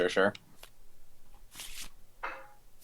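Cards being shuffled for a Root board game match, a few brief papery riffles and rustles near the mic, set between snatches of nearby talk.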